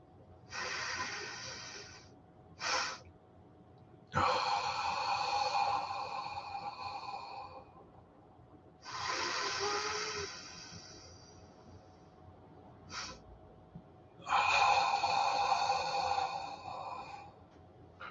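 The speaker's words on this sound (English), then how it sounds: "let's just do the Huberman double intake" Nasal breathing exercise with a double inhale through the nose, heard as several loud, breathy sniffing bursts separated by short quiet gaps, close to the microphone with no talking.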